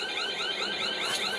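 An electronic alarm beeps in fast, repeating warbling chirps, steady and moderately faint, with no talk over it.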